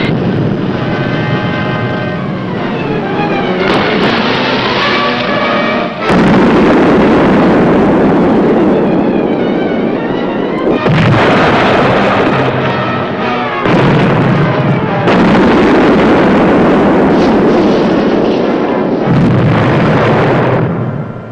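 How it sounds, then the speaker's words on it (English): Depth charges exploding around a submarine, heard as a run of loud, heavy rumbling blasts in close succession with brief gaps between them, no voices. "Depth charges were dropping in pattern now"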